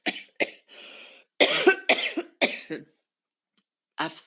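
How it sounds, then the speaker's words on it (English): Several sharp coughs in a row, close and loud, with a brief throat-clearing rasp and short pauses between bursts. "Sorry, I'm going to cough."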